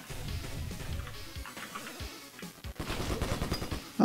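Shotgun blasts in the video game When It Hits The Fan, a handful of sharp shots fired at irregular intervals over constant game noise, ending in a loud final burst.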